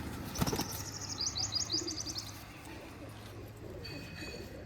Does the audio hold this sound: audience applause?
no